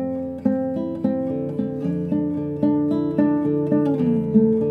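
Classical guitar playing a slow, gentle melody, each plucked note sustained with soft vibrato and smooth sliding portamento between pitches, close and clear with no talking.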